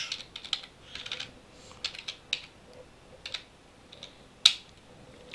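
Computer keyboard typing while entering text in the JOSM map editor: bursts of quick, close key clicks in uneven clusters, with one louder keystroke near the end and no voices.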